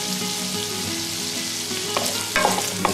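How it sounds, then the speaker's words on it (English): Salted chicken and shrimp fry in a pan, a dense continuous sizzle close up, while the bottom is stirred and scraped, with a few spoon scrapes and taps near the end. "and stir it. I'm gonna remove everything that is stuck on the bottom of the pan."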